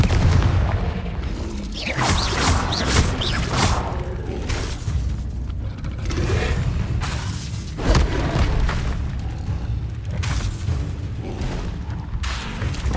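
Repeated Confringo fire-spell blasts from Hogwarts Legacy, a run of booming thuds and whooshing bursts spaced every second or two over a dense, continuous game soundscape, loud and close with no talk.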